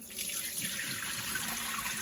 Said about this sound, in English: So wash the rice gently.